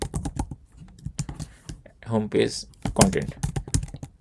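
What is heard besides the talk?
typing on a computer keyboard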